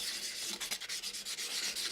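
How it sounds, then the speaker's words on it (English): A dome-shaped metal hammer head is being sanded, giving a steady, hissy scratching with rhythmic back-and-forth strokes, close and alone. "When you're done with the sanding"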